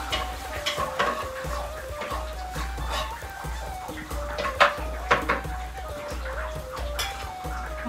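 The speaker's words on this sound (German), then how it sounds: "Hier werden wir dann die Karotten und die Kartoffeln dazu tun." Carrots and potatoes go into a tagine pot for a vegetable tagine cooked over an open fire: scattered clinks and knocks of vegetables and pot, irregular and fairly close, with chickens clucking in the background.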